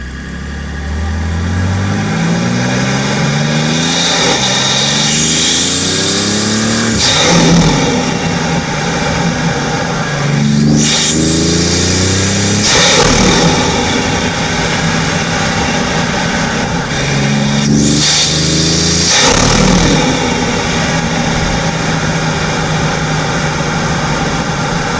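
BMW X3 M40i with a cold air intake driving, the engine climbing through three loud rising pulls with gear shifts between them, each ending in a sharp high whoosh, with no talk over it.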